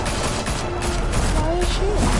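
Bursts of video game gunfire from Batman: The Telltale Series crackle densely over a loud, continuous mix of music and effects lasting a couple of seconds.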